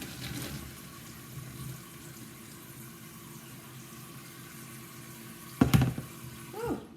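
Hot water runs from a kitchen tap in a steady, moderate stream, with a few louder clanks and splashes near the end as a pot is handled at the sink.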